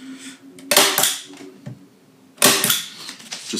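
A staple gun fires sharp, loud snaps, driving staples into canvas on a wooden stretcher frame, with two main bursts of clustered clacks and lighter mechanical clicks in between.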